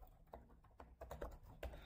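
Keys clack on an HP Victus 16 gaming laptop keyboard in an irregular run of light, close taps with short gaps between them.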